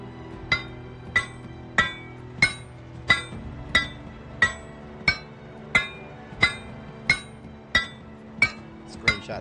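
Regular metallic hammer strikes shaping an ingot into a sledgehammer head in Project Zomboid, about fourteen evenly spaced ringing clinks with short decays over a low steady hum.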